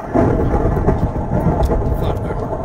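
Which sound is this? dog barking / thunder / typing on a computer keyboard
thunder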